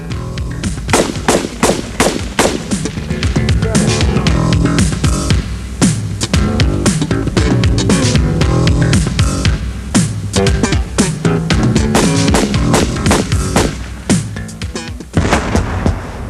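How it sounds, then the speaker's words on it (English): Rapid, loud gunfire from army basic training weapons at Fort Sill in 1987, fired while running, with dense bursts of sharp repeated shots continuing almost without pause throughout. "We even learned to fire our weapons while running."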